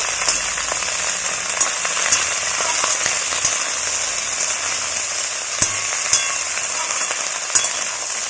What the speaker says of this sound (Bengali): খুব ভালো করে এবার নাড়াচাড়া করে দিচ্ছি